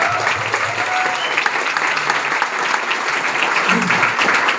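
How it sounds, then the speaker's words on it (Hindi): Strong applause from an indoor crowd at a luxury car ceremony, dense steady clapping throughout, loud and close. "मेरे ख्याल से जोरदार तालियां संतोष की।"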